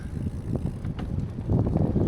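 A bicycle rolls along a path with a steady low rumble and soft mechanical clicks, light wind buffeting the microphone.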